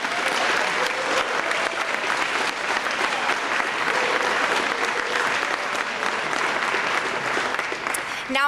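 A large audience at a college signing-day ceremony gives the new CoMeT students a steady, full round of applause, loud and continuous throughout with a murmur of voices underneath.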